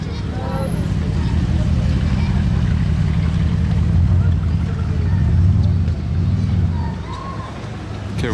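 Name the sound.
loud sports car engine passing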